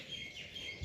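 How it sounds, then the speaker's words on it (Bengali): A few faint, high bird chirps rise outdoors among trees near a home's rooftop area in Bengal, thin and distant over a soft background hush. "এতক্ষণ এখানে কত পাখি ডাক ছিল"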